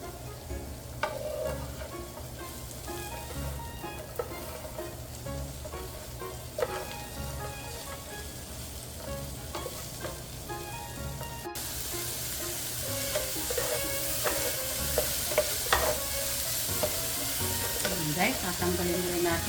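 Small-cut vegetables for home-style pancit frying in a wok, with a continuous sizzle and intermittent stirring scrapes that grow louder and busier in the second half.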